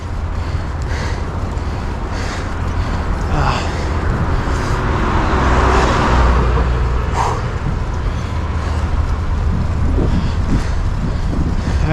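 Heavy wind buffets the microphone on a long bicycle training ride, a loud continuous roar with cars swelling past faintly underneath.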